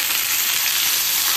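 Crabs rubbed with salt and turmeric frying in hot oil, a loud, steady, close hiss and crackle of sizzling with no pauses and no voices.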